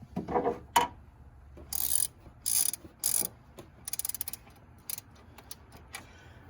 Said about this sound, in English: You tighten this one with a 10mm ratchet.